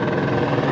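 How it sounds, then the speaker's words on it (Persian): A helicopter arrives and comes in to land, a loud, steady rotor roar filling the short moment close by, with no voices. "هلیکوپتر هلیکوپتر. بچه واقعا داره فرود میاد."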